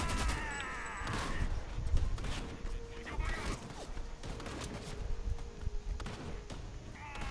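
Bursts of gunfire ring out in the video game Homefront The Revolution, with irregular shots and thumps scattered through a busy mix. Faint voices and other game effects can be heard underneath.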